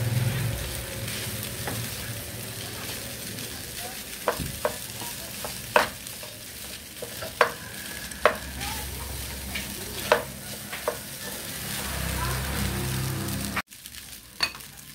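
Leftover rice is stirred in a frying pan over a continuous sizzle, with repeated spatula scrapes and knocks at irregular intervals before the sound cuts off near the end.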